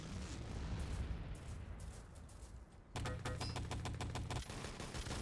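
An MG42 machine gun fires a rapid, continuous stream of shots in a competitive Wolfenstein: Enemy Territory match, with a dense earlier burst of battle noise before a clearer, sustained rattling volley.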